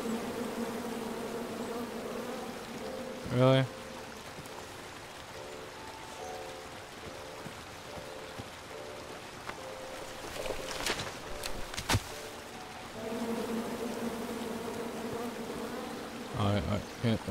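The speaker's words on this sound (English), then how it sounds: "Come at me, bees!" Bees buzz in the King's Quest video game, a thin insect drone running under quiet game ambience with a few brief louder bursts; a voice speaks once briefly.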